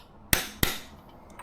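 A torque wrench set to 77 foot-pounds clicks on a bike's sprocket nut, two sharp close metallic snaps about a third of a second apart, then quiet.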